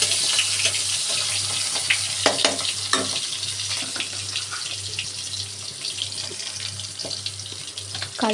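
Bitter gourd frying in a pan with nigella seed tempering and fat, a steady close sizzle with occasional spatula scrapes and stirs over a low constant hum.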